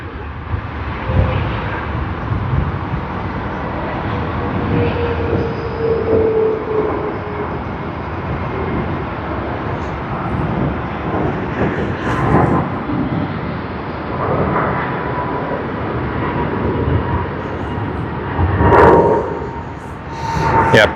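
An airliner takes off at Sydney Airport, heard as a steady, broad engine roar from the distance that holds throughout with slight swells, accompanied by faint higher tonal whines.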